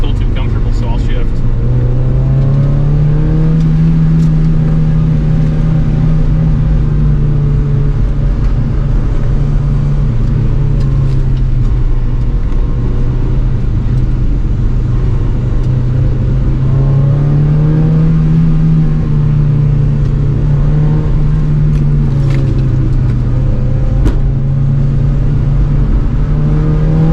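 An NB Mazda Miata's engine pulls hard on a winding mountain road, a loud steady drone whose pitch climbs and dips with revs and gear changes near 7,000 rpm, thick wind roar throughout.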